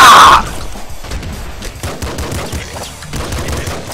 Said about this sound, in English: Get the grenade launcher. Shoot it from way over here.